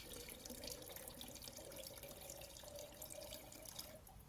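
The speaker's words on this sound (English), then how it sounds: "I'm going to fill my water up because I need to" Water bottle being filled from a tap, a faint steady stream of running water hissing and splashing for several seconds, quiet and without talk.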